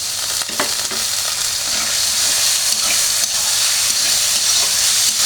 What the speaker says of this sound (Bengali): আমি এখন ডাল আর চালটা ভেজে নিয়ে পানি দিয়ে দেবো